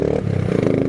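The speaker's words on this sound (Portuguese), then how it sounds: "Escapamento da Hayabusa, ali, ó." The exhaust of a Hayabusa motorcycle rumbles and revs loudly up close during a lane-splitting ride, a short, continuous throaty engine drone with rising pitch.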